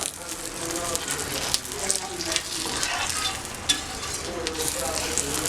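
Egg sizzling steadily in a hot pan on a traditional stove after being flipped, a continuous crackling fry with small pops, close and fairly loud, no talking.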